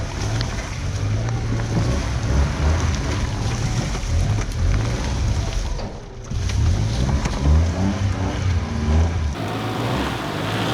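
A Honda Acty kei mini truck stuck in mud, its engine revving hard as the tires spin, a loud continuous close drone with shifting pitch and a brief dip midway.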